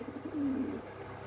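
A high-flying pigeon gives a single soft, short coo, faint and close against a quiet background.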